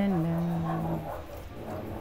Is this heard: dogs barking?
yes